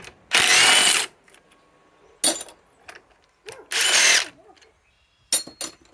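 A Ryobi PSBIW25 compact impact wrench on an 8 Ah 21700 battery, pulling damaged fasteners from wood, fires two long, loud hammering bursts and several shorter ones, separated by quiet pauses and small clinks, with no speech.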